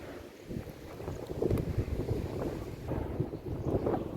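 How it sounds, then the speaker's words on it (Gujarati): Strong wind buffets a wireless microphone in continuous low rumbling gusts, rising and falling throughout with no voices. "ને એકદમ ફૂલ પવન લાગી ગયો છે"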